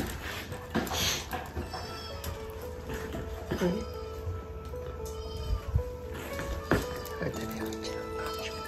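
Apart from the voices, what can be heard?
kitten meowing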